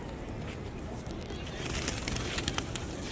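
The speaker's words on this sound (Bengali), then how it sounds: "যেমন দেখেন একদম কাছাকাছি কবুতর" A flock of pigeons coos close by at a mosque in Medina, soft throaty calls layered over a busy background hum of crowd and wind.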